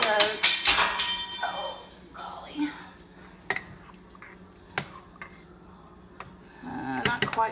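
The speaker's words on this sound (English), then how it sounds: "I'm gonna stir up the oats" A spoon stirs Quaker oats cooked with milk in a bowl, making scattered light clinks and taps against the dish. A person talks now and then.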